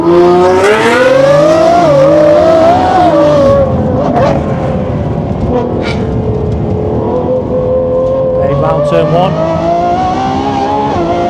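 A high-revving Lamborghini Revuelto engine screams through its exhaust and shifts pitch as it accelerates around a track, loud and close, with a person speaking briefly over it.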